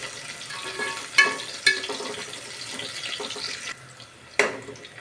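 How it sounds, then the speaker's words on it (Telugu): Sliced onions frying in hot oil for mutton curry, a steady soft sizzle with a few sharp clinks of a spoon against the pan. "ఆనియన్స్ గోల్డెన్ బ్రౌన్ కలర్ వచ్చేంత వరకు ఫ్రై చేసుకోవాలి ఫ్రెండ్స్"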